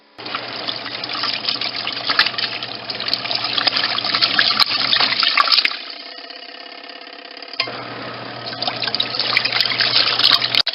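A washing machine in its final rinse cycle, with water running and splashing steadily against a constant low hum; the flow drops away for a couple of seconds mid-way, then resumes at the same level.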